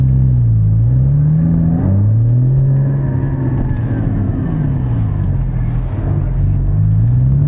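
A 2016 Porsche Cayman GT4 engine drones steadily while driving, its pitch rising and falling through gear changes as it pulls, a loud continuous rumble from inside the cabin with no talking.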